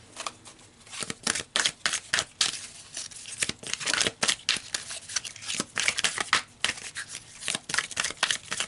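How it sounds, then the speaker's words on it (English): Tarot cards are shuffled and pulled in quick, crisp flurries of papery slaps and riffles, close and fairly loud, with no one speaking. "So let's pull some more cards here"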